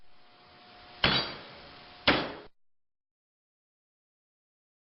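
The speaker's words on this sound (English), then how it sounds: "Pound nails into each of the 4 holes to assemble the boards as shown." Nails pounded into wooden bird feeder boards, two sharp hammer blows about a second apart with ringing decay, then near silence and a final faint tap at the end.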